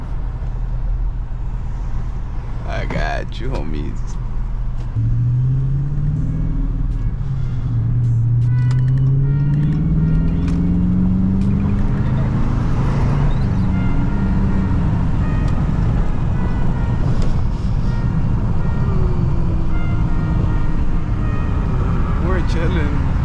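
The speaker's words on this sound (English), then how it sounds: "You guys want to hear the car?" A 2022 Dodge Charger R/T engine rumbles steadily in the early morning, with a rising revving sweep partway through and a constant low drone throughout, while someone talks over it now and then.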